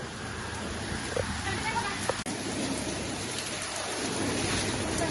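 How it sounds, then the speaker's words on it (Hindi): Heavy rain pours down steadily as a dense, close hiss that lasts the whole stretch, with one sharp knock partway through and no voices over it. "इतनी तेज बारिश हो गई"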